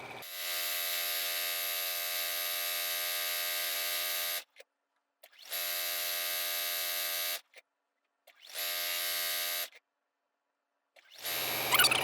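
A sewing machine stitching a reversible flannel infinity scarf runs in steady, close bursts of even motor whirr, three long runs of several seconds separated by brief silences, followed by a short rustle at the end.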